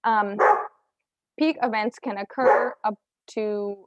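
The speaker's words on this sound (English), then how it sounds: "oh, sorry for the dog bark." A dog barks several times in short bursts nearby, mixed in with someone talking.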